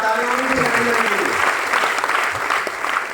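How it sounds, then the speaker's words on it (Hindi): Steady applause from an audience at a Vestige business gathering, filling the whole stretch at an even level, with voices audible beneath the clapping near the start. "जोरदार ताली होनी चाहिए।"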